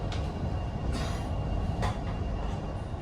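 A passenger train runs along the main line near Shipley heading toward Leeds, giving a steady close rumble with faint rail clatter and a couple of brief brighter bursts, without any speech.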